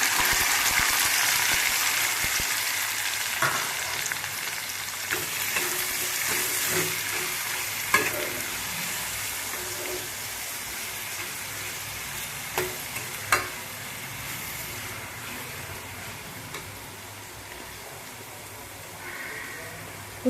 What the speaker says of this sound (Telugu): ఇందులోనే ఉల్లిపాయ పచ్చిమిరకాయలు వేసుకుందాం